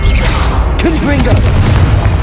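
A Confringo blast spell explodes in Hogwarts Legacy combat, a loud booming burst with a sharp crack partway through, followed by rumbling debris noise and brief vocal sounds.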